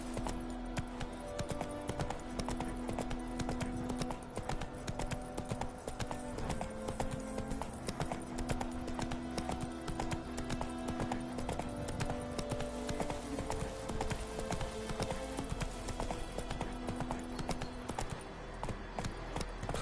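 Roach, a horse in The Witcher 3 Wild Hunt, gallops with steady rhythmic hoofbeats, loud and continuous under a layered game music score.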